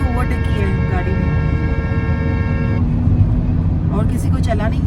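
On a highway during a Mumbai-to-Mangalore road trip, a truck overtakes amid continuous loud road and engine rumble. A long, blaring horn tone holds for a few seconds before cutting off, followed by faint chatter.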